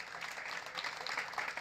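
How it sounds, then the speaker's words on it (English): An audience claps warmly at a writers' storytelling evening held in a hotel, a full, even burst of applause that stays steady for a moment with a slight swell. "Let's applaud Burlington Writers Project for making this happen."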